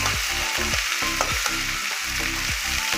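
Okra is tossed and fried in a pan with no spices, a steady loud sizzle broken by rhythmic scraping stir strokes roughly every half second, close up and with no talking.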